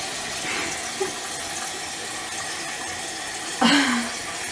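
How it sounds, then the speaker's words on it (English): Toilet tank refilling with water after a Fluidmaster universal repair kit install, a steady hiss of running water with a brief gurgle and a louder splashing surge near the end. "As long as the toilet fills up and flushes, we are happy."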